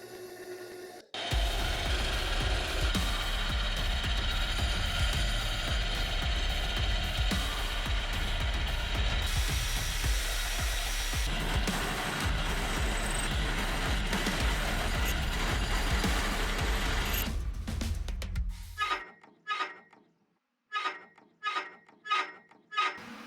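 A milling machine runs loud and steady for about eighteen seconds while drilling four M8 holes to bolt a solid tool post onto a hobby lathe's cross slide, then stops, followed by several short, sharp metallic taps.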